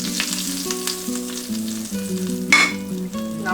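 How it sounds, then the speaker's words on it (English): Red chilies sizzle and crackle in hot desi ghee, a steady close frying hiss with small pops and a brief louder burst partway through. "So I have heated this clarified butter, desi ghee, to which I will add a bit of red chilies."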